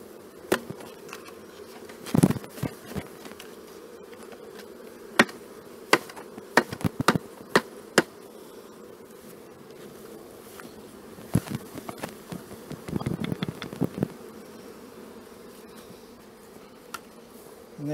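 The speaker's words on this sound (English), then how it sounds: "you can see there's bees fanning, and that'll encourage the rest of the bees that are outside hanging underneath there to go into the rest of the hive." Honeybees buzzing steadily around a nucleus hive being rehoused, with some fanning at the entrance; a low continuous hum runs throughout, broken by scattered sharp knocks and clicks from handling the hive.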